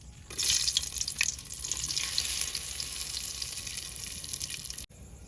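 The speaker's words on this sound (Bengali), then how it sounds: "এই যে আমার হাড়ি গরম হয়ে গেছে আমি তেল দিয়ে দিচ্ছি এই দেখুন তেজপাতা আর শুকনো লঙ্কা আমি তেলের ভিতরে দিয়ে দিচ্ছি" Bay leaves and dried red chillies sizzle in hot oil in a pot for Bengali mutton curry, a bright steady crackling hiss starting abruptly and holding until a sudden cut near the end.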